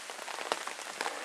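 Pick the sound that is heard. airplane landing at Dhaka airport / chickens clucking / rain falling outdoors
rain falling outdoors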